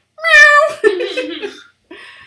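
A house cat meows loudly and insistently indoors, a long drawn-out cry followed by a second wavering call and a brief short meow at the end, close to the listener with no other sound around it.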